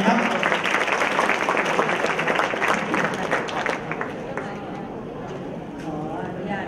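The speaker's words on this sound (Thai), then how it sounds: "อยากฟังขอเสียงปรบมือดังๆเลยครับ" An audience at a national artists' arts event claps in a dense wash of applause that gradually thins and fades toward the end, with voices mixed in.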